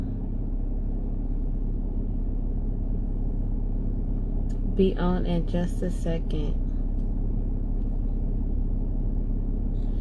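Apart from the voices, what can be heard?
car rumble while riding in a moving vehicle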